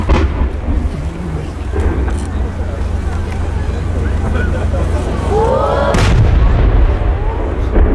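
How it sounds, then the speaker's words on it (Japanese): Deep booming bursts of competition fireworks at the Yatsushiro fireworks festival in Japan roll continuously against a low rumble, with a sharper crackling burst near the end; loud and reverberant outdoors. "3色が移り変わる花火です。"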